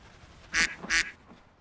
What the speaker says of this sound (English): That's double quacks.